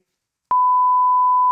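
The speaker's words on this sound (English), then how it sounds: "I just have to turn off my alarm." A phone alarm set as a daily 7 pm reminder to turn on the household water supply sounds one loud, steady electronic beep that starts abruptly and holds as a continuous pure tone.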